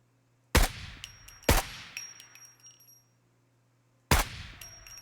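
Three separate AK rifle shots in the video game SCUM, each a sharp, loud crack with a ringing, metallic tail, the first two close together and the last after a pause, with no talk.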